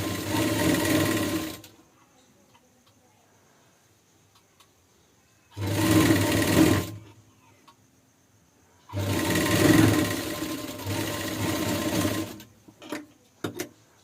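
A sewing machine runs in three loud bursts of rapid stitching as blouse lining is sewn to fabric, separated by quiet pauses, with a few faint clicks at the end.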